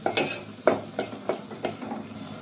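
Spices and salt stirred into a homemade chickpea curry in a pan, a spoon scraping in a run of sharp, separate strokes over a soft, steady sizzle, close by with no talk.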